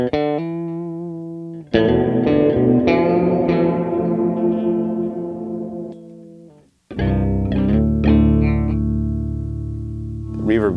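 Guitar chords ring out through an Orange Rockerverb combo amp with heavy reverb, notes washing and sustaining into long echoing tails, loud and close.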